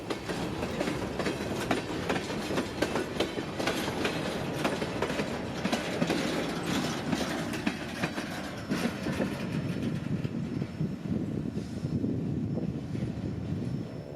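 A train rolls past on a railway track, with a dense rumble and rhythmic clickety-clack of wheels over rail joints, loud and close at first and easing slightly toward the end, with no talking.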